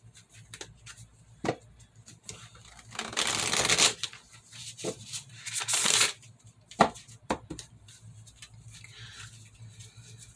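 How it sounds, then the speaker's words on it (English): Tarot cards being shuffled by hand, with a few soft taps and handling noises, then two dense bursts of riffle shuffling, followed by scattered card flicks and taps, close and fairly quiet. "I'm gonna go ahead and shuffle this on camera."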